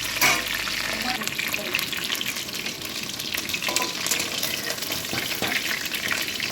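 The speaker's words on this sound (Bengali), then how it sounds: "আধ ঘন্টা ম্যারিনেট করে রাখার পর চিকেনগুলো আমি একে একে ভেজে নেব।" Marinated chicken pieces deep frying in a wok of oil, a steady dense sizzle and bubbling running throughout at close range, with occasional stirring clatter and faint background voices.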